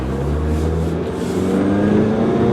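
A 2000 Daewoo Leganza with a four-cylinder engine and four-speed automatic transmission pulls away, its steady engine hum rising slightly as it gets underway, heard close and from inside the car.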